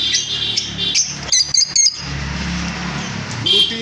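Caged lovebirds, lutino rosy and blue varieties, chirp and tweet in bright bursts nearby, with a low background hum and some faint chatter underneath.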